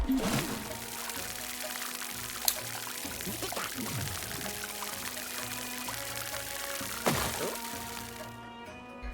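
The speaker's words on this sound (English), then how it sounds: "take the watering can of yours and drench these dry melons" Video game watering can pouring water over dry melons, a continuous splashy trickle with a few cracking pops and knocks, mixed with game music and effects.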